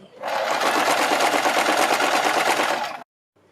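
Close, loud sewing machine stitches a strip along marked lines for a neck design, one steady run of about three seconds that stops abruptly.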